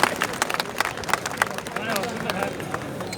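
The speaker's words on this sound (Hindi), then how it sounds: "मुस्लिम भाई को तालियां बजा दें भाई आप लोग इन दोनों के लिए।" Scattered clapping from a crowd at an employees' strike gathering, uneven bursts of hand claps mixed with murmuring voices and chatter.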